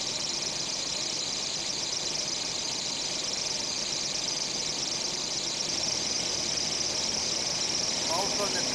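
A carbureted engine with a rebuilt carburetor idles while warming up as its choke opens, giving a dense, unbroken drone that holds steady throughout.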